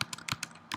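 Rapid keystrokes on a computer keyboard, about six distinct clicks in under a second, close and clear with no talking over them.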